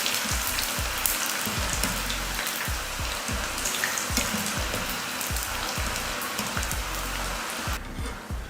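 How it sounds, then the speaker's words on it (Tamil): Diwali snacks deep-fry in hot oil with a dense, steady crackling sizzle, close and loud throughout, then cut off abruptly just before the end. "எண்ணெய் காஞ்சிருச்சு. இப்போ பொரிச்சு எடுத்துக்கலாம்."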